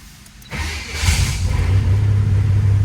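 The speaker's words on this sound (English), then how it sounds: "Fired right up, and that's a cold start" A 1986 Buick Regal T-Type cranks briefly and fires up from a cold start, its engine catching with a rising surge and settling into a loud, steady rumbling idle close by.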